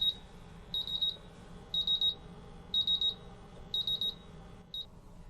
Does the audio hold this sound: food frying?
no